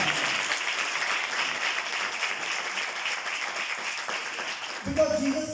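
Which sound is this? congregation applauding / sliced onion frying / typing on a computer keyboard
congregation applauding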